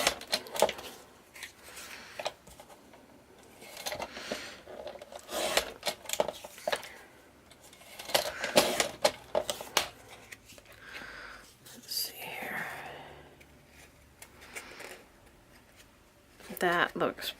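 Craft box material for a mermaid box being trimmed, with quiet cutting, snipping and rubbing sounds coming in bursts while a person talks softly throughout.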